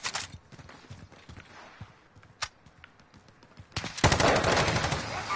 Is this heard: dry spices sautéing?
no